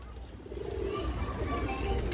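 A pigeon coos softly in a low, rolling call, faint and fairly near, over a murmuring background that may include distant voices.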